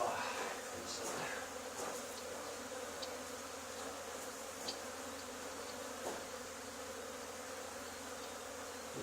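A honey bee swarm buzzes steadily during its removal from an old barn, a dense, continuous hum close by with occasional sharper passes from individual bees and no talk.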